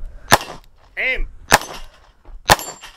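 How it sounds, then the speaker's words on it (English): A HawkTech Arms 1911 airsoft pistol firing three sharp, close, loud cracks about a second apart at a shooting match, with brief voices between shots. "You're shooting to the right. Just slow down."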